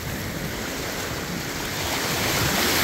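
Steady roar of ocean waves at St. Thomas Beach in the US Virgin Islands, with continuous broadband surf and wind noise on the microphone, loud and building slightly toward the end, no voices.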